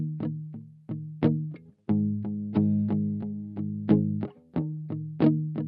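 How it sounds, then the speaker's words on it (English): Doubled clean electric guitars play a bouncy, rhythmic riff of plucked notes and short chords, loud and alone, with a slight chorus-like shimmer and no distortion yet. "So originally the guitars sounded like this."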